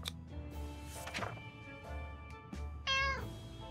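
A cat meows in the video game 60 Seconds! Reatomized, a clear, close, drawn-out call heard over the game's steady background music.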